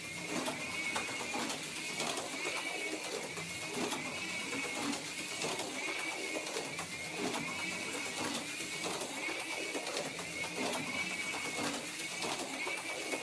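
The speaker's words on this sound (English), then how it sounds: "Can you hear the motor and that little whining it's making?" A small slot car's electric motor whines steadily at a high pitch, a thin continuous buzz running throughout with slight wavering as it laps the track.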